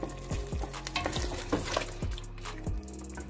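A spoon scrapes rhythmically through palak gosht, spinach and meat cooking in a frying pan, with a steady sizzle beneath the repeated close stirring strokes.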